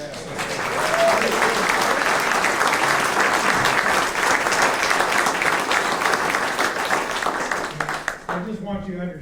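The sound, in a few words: audience applause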